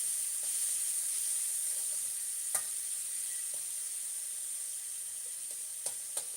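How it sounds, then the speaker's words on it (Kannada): Papad frying in hot oil in a home kitchen, a steady faint sizzle and hiss with a few soft clicks and pops scattered throughout, with no talking. "ಇಲ್ಲಿ ನಮ್ಮ ಅಮ್ಮ ಪಾಪಡ್ ಹುರಿತಾ"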